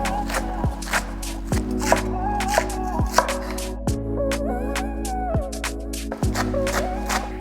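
A knife chops rhythmically through stacked gem lettuce leaves, shredding them fine on a board, with close, regular cuts over a steady hum and ringing background tones.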